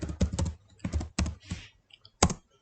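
Computer keyboard keys clack in short quick bursts of typing with brief pauses between them, close and fairly quiet, with no voice.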